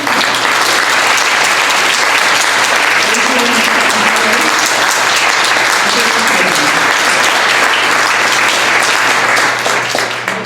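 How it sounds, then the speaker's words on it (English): An audience at a spring luncheon gives a speaker a steady round of applause, loud and even from start to finish with no talking over it and a low hum running underneath. "please join me again in a round of applause for Denise Spivey."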